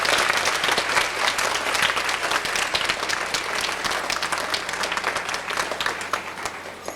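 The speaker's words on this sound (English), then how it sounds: "let's give the kindergarten classes and their teachers another round of applause" Loud, full applause for kindergarten classes and their teachers at an elementary school holiday program, with many hands clapping in a dense, continuous wash that stays strong throughout and tapers only slightly at the end.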